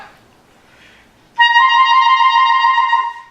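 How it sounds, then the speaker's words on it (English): A clarinet plays C and trills to D with the third side key, a bright, smooth sustained tone entering after a quiet lead-in and lasting close to two seconds, heard alone. "you play C and then you use the 3rd side key up and you hit that to trill."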